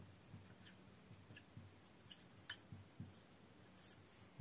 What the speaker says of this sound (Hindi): तो चलिए यहां लिखते हैं